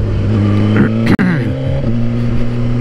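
A Suzuki GSX-R1000R motorcycle accelerates hard to overtake, its engine rising in pitch through a quick-shifted gear change with a momentary cut, loud and close under steady wind noise.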